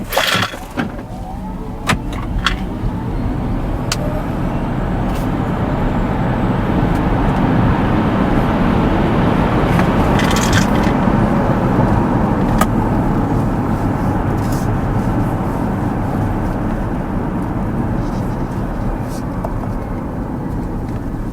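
A Hyundai Casper Electric accelerates hard in sport mode on a night drive, heard from inside the cabin as a loud, steadily building road and wind roar with a faint electric whine, sustained for about twenty seconds.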